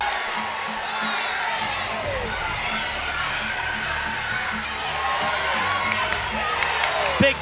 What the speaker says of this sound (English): drawing a reaction from the crowd.